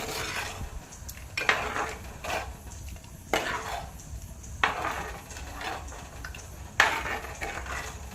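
A spoon stirs a lentil-based mackerel chilli curry in a metal pot, scraping in about six regular strokes, each with a brief clank against the side, close and fairly quiet with no talk.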